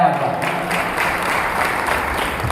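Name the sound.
audience applause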